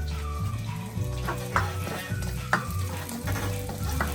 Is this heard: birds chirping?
no